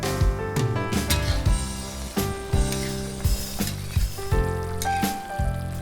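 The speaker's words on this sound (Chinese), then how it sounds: "反复翻炒。" Sauce-coated pork being stir-fried in a wok with cooking wine, dark soy and sweet bean sauce: steady loud sizzling with repeated scraping and clanking strokes of a spatula, close up, no talk.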